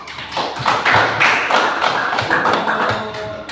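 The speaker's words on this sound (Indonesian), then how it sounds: "Tepuk tangan untuk kelompok 2." Students in a classroom applaud a group, a burst of scattered, uneven clapping lasting several seconds, fairly close and with no talk over it.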